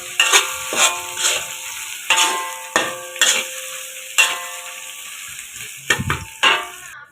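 Dried chili and onions fry in oil for a sambal with fish, a steady sizzle under repeated scraping strokes of a spatula in the pan, close and clear.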